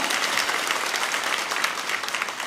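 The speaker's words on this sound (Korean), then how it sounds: "하나님께 영광의 박수 올려드리도록 하겠습니다" A church congregation at an early-morning autumn revival service breaks into steady, dense applause, a full hiss of many hands clapping at once, fairly close and uninterrupted.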